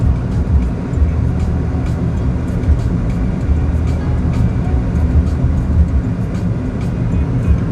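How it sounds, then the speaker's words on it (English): A car's air conditioner runs at full blast while driving around Palm Springs in 110-degree heat, a loud, steady roar mixed with road and engine noise and faint ticking, with no pauses. "The air conditioner is on fully on mode, which means it's really loud and it's blowing a lot"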